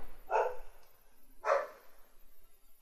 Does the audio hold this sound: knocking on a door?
no